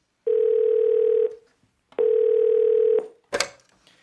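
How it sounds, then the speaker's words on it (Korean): Two long, steady electronic telephone tones sound in succession, each lasting about a second, followed by a brief clatter. No speech. "자, 벨소리 주세요."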